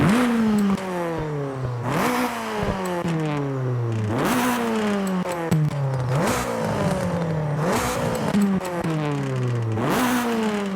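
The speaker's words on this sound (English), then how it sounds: "let's hear how each exhaust changes the sound of the car" Repeated revving from a Honda Civic Type R in Forza Horizon 5 with a sport exhaust: the engine pitch climbs and drops back about every two seconds across five or six close, loud revs, with no talking.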